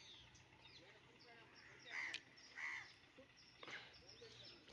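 A crow caws outdoors in the countryside, two distinct harsh calls in quick succession near the middle, followed by a fainter sound, over steady ambient background.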